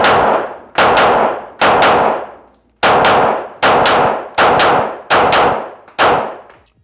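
Eight sharp Glock 17 pistol shots ring out at an outdoor shooting range, loud and close, fired in an uneven rhythm with short gaps and each report decaying into a brief echo.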